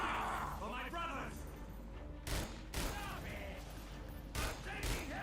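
Gunfire in The Darkness II, a few sharp broadband bursts of shots cutting through a busy game mix, with someone talking in between.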